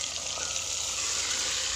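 Mutton pieces frying in a cup of oil inside a pressure cooker on a gas stove, giving a steady, even sizzle that carries through the whole moment with no talk over it.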